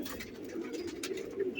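A young Rampuri pigeon coos in a steady low warble, close and fairly clear, with light rustling around it.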